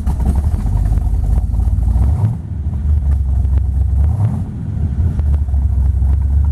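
A 1967 Chevrolet Corvette Stingray convertible with a 427 Tri-Power V8 starts and settles into a loud, steady low rumble at idle, with a couple of brief dips and swells in engine note.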